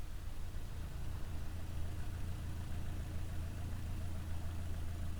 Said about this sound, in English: There we go, starting the engine.